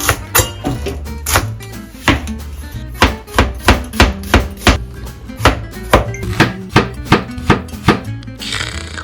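Rapid knife chopping of vegetables for japchae on a cutting board, a steady run of crisp, close thwacks that continues throughout with no talk.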